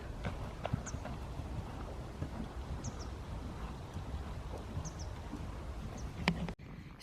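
A brood mare being brought back into work trots on a surface, its hooves beating an even, steady rhythm under light wind, with a few faint bird chirps overhead.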